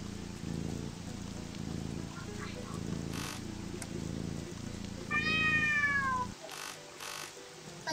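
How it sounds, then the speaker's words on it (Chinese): A kitten meows in a horror puzzle RPG, a single rising cry over a steady patter of rain, with soft repeating game music underneath that cuts out near the end. "哦，好可爱的小喵喵。"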